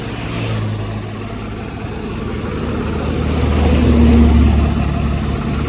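A tractor engine idles with a steady low rumble, swelling slightly louder for a moment before settling back into its even hum.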